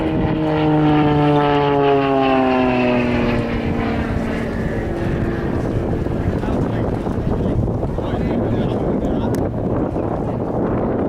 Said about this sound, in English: He's going to pull up into the torque roll and pull backwards through his own smoke.